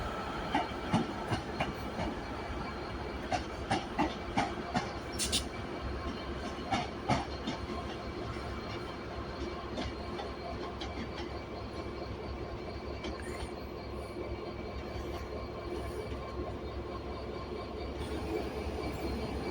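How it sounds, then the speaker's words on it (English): Diesel unit 156483 pulls out of Carlisle station bound for Newcastle, a continuous rumbling run with rhythmic wheel clicks and occasional squeal, fairly close and steady with no talking. "Departing Carlisle now is 156483. Heading back out to Newcastle."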